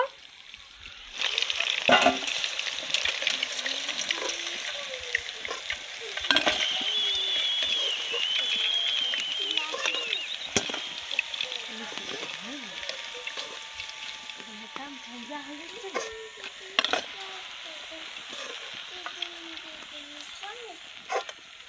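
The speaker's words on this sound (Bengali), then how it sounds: "আবারও তেলে ছেড়ে দিলাম পিঠা" Dudh gokul pitha, a sweet dumpling, is dropped back into hot oil, bursting into a loud bubbling sizzle that then settles into steady frying, dotted with sharp crackles and brief pops throughout.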